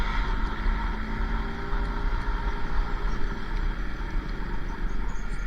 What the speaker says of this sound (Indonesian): yang terdengar suara knalpot yang meraung-raung, membelah kesunyian malam